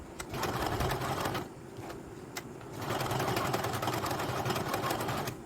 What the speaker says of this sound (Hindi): अब लाइनिंग को किनारे की साइड से अटैच कर लेनी है सिलाई लगाकर